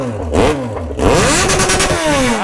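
A Yamaha XJ6 motorcycle fitted with its original exhaust revs hard nearby, engine pitch sweeping up and falling back in two loud surges, then climbing again, with no one speaking over it.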